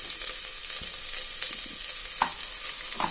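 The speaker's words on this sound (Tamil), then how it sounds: "வெங்காயம் இப்போ பொன்னிறமா வதங்கட்டும்." Chopped onions sizzle steadily in a pan for a mutton curry, a continuous broadband fry with a few soft stirring clicks, close and moderately loud with no voices.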